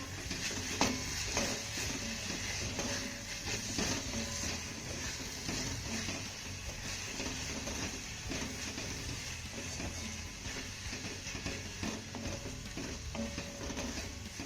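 Cooked grated eggplant with finely chopped coriander being stirred in a pan for a quick spicy bharit, a steady scraping and soft sizzle running throughout with no voices.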